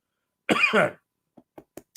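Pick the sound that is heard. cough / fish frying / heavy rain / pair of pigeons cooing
cough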